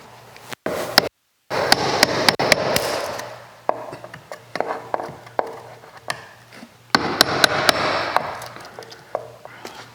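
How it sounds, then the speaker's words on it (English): A cheap chisel is driven to split a carpet strip, producing repeated sharp close taps and cracking knocks in irregular bursts, with a noisy scraping stretch in between and brief gaps of quiet. "I'm going to take the chisel and see if I can split the carpet strip"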